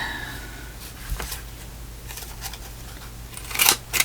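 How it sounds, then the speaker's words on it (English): Scissors cutting fabric scraps for tags: a few sparse, crisp snips scattered over several seconds, closing with two sharper, louder cuts near the end. "I need to cut that piece off over there. Then I'm going to cut that piece off"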